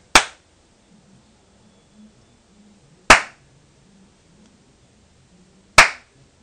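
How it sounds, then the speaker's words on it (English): Three sharp, separate hand claps spaced a few seconds apart, each a crisp isolated crack against near silence, used to trigger a homemade clap-activated circuit. "you got to clap a little harder to get it to go"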